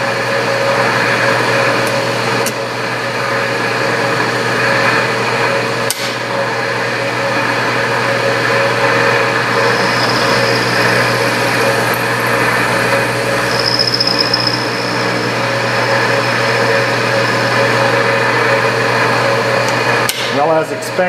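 A metal lathe takes a first 20-thousandths knurling cut with a scissor knurl, giving a steady, loud mechanical hum and whine for about twenty seconds, with a few sharp knocks and no talk.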